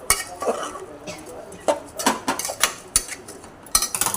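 Rice being stirred and sautéed in a pan for pulao, with a run of scraping and clinking utensil strokes against the metal, some sharp, in an irregular rhythm close by.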